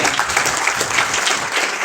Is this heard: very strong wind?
no